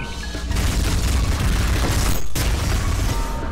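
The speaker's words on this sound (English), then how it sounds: "it's even easier to just interrupt their attack and set off a chain reaction of explosions" A chain of drone explosions from the video game ULTRAKILL booms in rapid succession, a dense roaring barrage of blasts that runs almost continuously, with one brief gap before the rumbling resumes.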